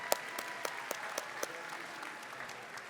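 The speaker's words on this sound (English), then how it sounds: "Let's give him a round of applause for that" Sparse, faint applause at a university convocation, a few distinct sharp claps in a loose rhythm over a quiet, distant crowd.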